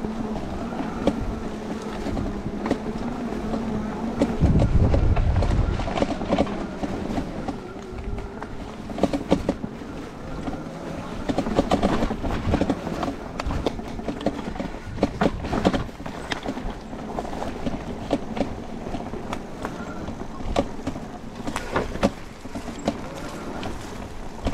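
An ENGWE Engine X fat-tyre electric bike with a 250 W brushless motor rides along a small path in third gear, giving continuous rolling tyre noise and wind rush, with a louder low rumble near the start.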